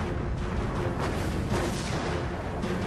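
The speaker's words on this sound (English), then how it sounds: "Now, on May 24th, 1941, Hood and Bismarck open fire." The battleships Bismarck and Hood fire artillery salvos in 1941, heard as a continuous rumbling, booming roar with soft swells and no talk over it.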